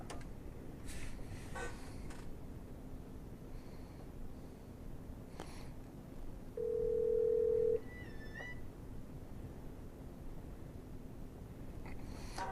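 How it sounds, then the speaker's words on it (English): An office desk telephone sounding a steady dial tone for about a second amid quiet room noise, with a few faint clicks around it and no talking. "We're going to dial an outside line"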